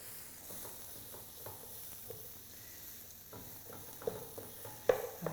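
Chopped onions hit a hot pan of chilli with a steady close sizzle and frying hiss, broken by a few sharp spatters and stirring knocks toward the end.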